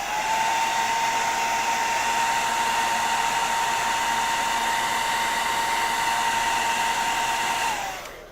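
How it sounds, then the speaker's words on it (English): A hair dryer runs steadily and close for about eight seconds with a constant whine and airy rush, loud and alone, then clicks off at the end. "let me get a hair dryer real quick"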